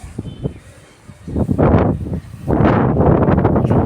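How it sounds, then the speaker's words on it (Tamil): Gusty wind buffets the microphone outdoors under an open sky, rising in loud rushing bursts and holding strong toward the end, with faint rustling beneath. "காற்று வேறு அடிக்குது"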